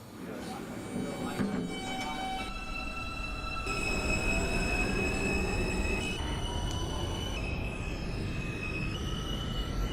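An R160B subway train departs in the OpenBVE train simulator game, with a steady rolling rumble under rising, squealing motor tones and wheel screech that build as it pulls away.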